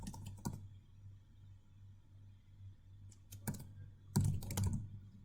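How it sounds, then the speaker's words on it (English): Bursts of typing on a computer keyboard while entering R library commands in RStudio, with short clusters of key clicks near the start, middle and end, close and fairly quiet over a low hum. "So I'll just first type in here required libraries."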